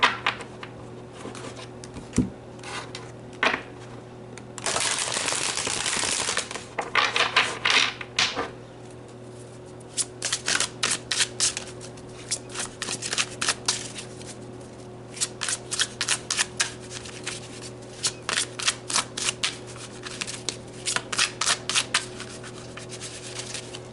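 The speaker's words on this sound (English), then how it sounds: "Let's pull some tarot." Tarot cards are shuffled over and over at close range, giving a long stretch of riffling and rubbing followed by quick bursts of crisp card flicks in an irregular rhythm, with no talking.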